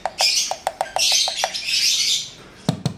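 A hen in an aviary chirps in a quick series of bright, sharp tweets and calls, loud and close, followed by a couple of soft knocking taps at the end.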